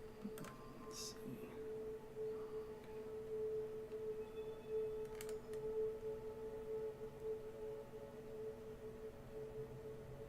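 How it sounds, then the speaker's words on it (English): Civil defense tornado warning sirens wail steadily across town in the distance during a tornado, a sustained tone running under faint background noise with a few brief clicks. "I know you're hearing the sound, the sirens going off in probably Edmond, the Village, etc., Arcadia"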